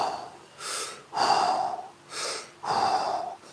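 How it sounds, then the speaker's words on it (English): Big, deep breaths taken slowly during a squat exercise: two long inhale-exhale cycles, each a soft airy draw followed by a fuller, heavier exhale, close and clear with no talking. "With a few big breaths"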